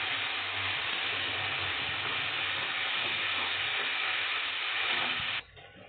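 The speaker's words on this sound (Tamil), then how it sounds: "இப்போ நாங்கள் அரைச்சி வச்ச தக்காளியை சேர்த்துக்கிறோம்." Sautéed onions and ground tomato sizzle in a pan for a chana gravy, a steady, close hiss that holds for several seconds before suddenly dropping to a quieter simmer.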